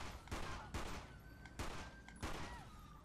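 Four quiet bursts of gunfire aimed at car tires in GTA San Andreas, spaced under a second apart, each a sharp crack with a short tail.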